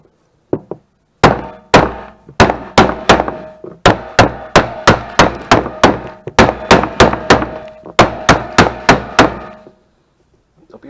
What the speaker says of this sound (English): Don't be afraid to give it a couple whacks.